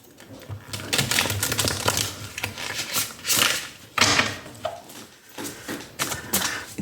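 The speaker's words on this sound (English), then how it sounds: "it's still a little tough for me to shuffle the other way around." Tarot cards are shuffled by hand in a series of close, crisp riffling and slapping bursts with short pauses between them, fairly loud and with no talk over them.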